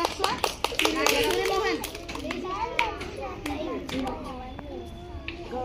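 Children clap in a classroom, a quick scatter of uneven claps near the start and a few more later, with children's voices chattering throughout.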